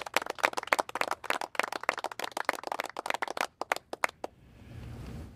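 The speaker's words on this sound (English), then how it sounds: "So can we give them a round of applause too, please?" Scattered applause from a modest press-conference audience, with individual claps distinct and fairly close. It goes on steadily for about four seconds, then stops abruptly, leaving low room noise.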